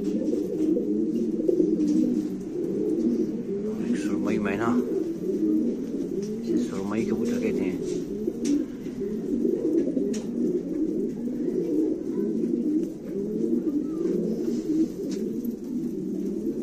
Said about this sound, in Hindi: माशाल्लाह अच्छा कबूतर, खूबसूरत कबूतर।